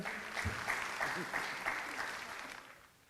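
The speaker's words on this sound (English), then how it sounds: "Let's give her a round of applause" Faint crowd applause at a Trinidad and Tobago Indian Arrival celebration, steady clapping from a distant audience with a voice briefly audible over it, fading toward the end.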